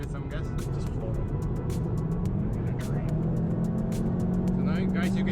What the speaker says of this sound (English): And you can do a highway pull. Like you give it some gas.